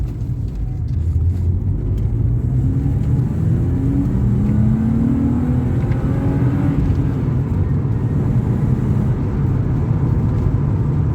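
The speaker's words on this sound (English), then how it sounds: "it's definitely nice to hear that straight 6 soundtrack" A BMW E36 328i straight-six pulls hard in second gear along a straight road, its steady, loud engine drone rising in pitch as it accelerates, with a constant rumble and no talk over it.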